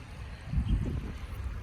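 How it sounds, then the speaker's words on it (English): A woodland stream flows steadily, its soft rushing and gurgling water heard close by and alone, with a slight swell in the middle. "And you hear the water?"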